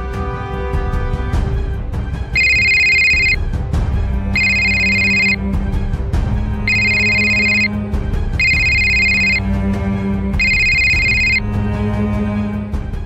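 A telephone rings out on a call home, five evenly spaced electronic ring bursts with short pauses between them, loud and close over a low background hum.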